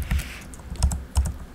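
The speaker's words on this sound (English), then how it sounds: "Sorry for my typing." Keys clatter on a computer keyboard in a few quick bursts of typing, close and fairly crisp, with short pauses between the clusters of keystrokes and no talking.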